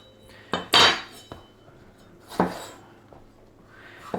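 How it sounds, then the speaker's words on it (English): A few hard clatters of a chopping board set down on a counter, a sharp knock followed by a lighter clack, close and otherwise quiet. "we're taking a chopping board"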